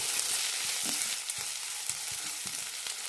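Onions fry in a pan for a quick onion thoran, a soft steady sizzle broken by repeated scraping stirs of a spoon, close and fairly quiet with no talking.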